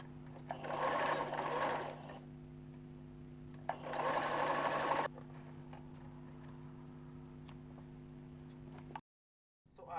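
A sewing machine stitching bias strips for an ironing board cover made from a duvet cover. Two bursts of rapid, close, mechanical stitching, each about a second and a half long, run over a steady motor hum, and the sound cuts off near the end.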